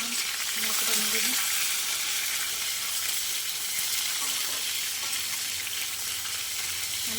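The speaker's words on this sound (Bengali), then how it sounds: "আমড়াটা তেলের মধ্যে দিয়ে দিলাম" Hog plum (amra) pieces fry in hot oil with cumin seeds, giving a steady, dense sizzle and crackle that holds evenly throughout at close range, with a few faint scrapes and no talking.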